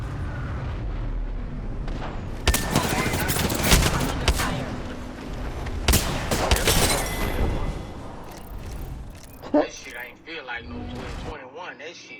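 Bursts of battle royale video game gunfire, loud and dense with rapid volleys and sharp cracks, heavy in the first two-thirds and thinning toward the end, with talk over the top.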